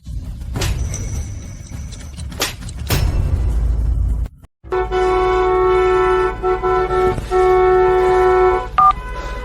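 Car horns blare in a stalled traffic jam on a toll road, with a few sharp short bursts giving way after a brief gap to long, sustained overlapping honks.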